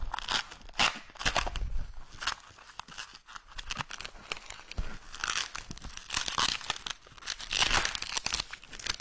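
Latex 360 modelling balloons are twisted into pinch twists, with close, irregular squeaks, crinkles and rubbery rubbing in quick bursts throughout, no talking.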